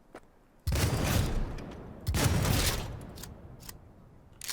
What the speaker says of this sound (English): why don't we get out our shotgun?